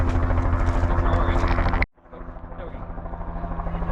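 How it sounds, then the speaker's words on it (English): A red helicopter's rotor thumps in a rapid, steady rhythm at a flight school airfield, loud and close, briefly dropping out before continuing slightly quieter. "as well as this red helicopter coming in"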